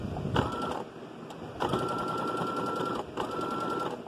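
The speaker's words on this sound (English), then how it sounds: "I may do two layers of stitching instead of one" A sewing machine stitches the skirt of a pinafore dress in three bursts of rapid, steady needle clatter, each running a second or more with brief pauses between.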